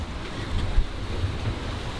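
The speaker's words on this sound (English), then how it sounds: "11 to 12 knots of wind." Steady wind and breaking waves around a sailboat under main and sails at sea in 11 to 12 knots of wind, a broad continuous wash with gentle swells, no voices.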